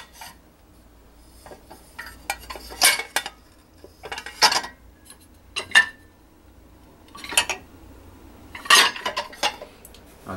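Ceramic plates clink and scrape as they are loaded into an Electrolux stainless steel dishwasher, about six clusters spaced a second or two apart, close and crisp against a quiet background.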